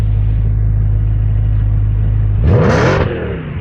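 A 2014 Audi RS5 idles with a loud, steady rumble and then gets one sharp rev that climbs in pitch, peaks and falls back, close up and with no talking.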